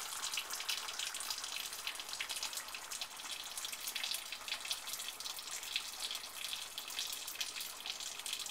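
Boiling water poured through a funnel down a rifle barrel muzzle, a soft steady trickling wash that continues evenly at low volume.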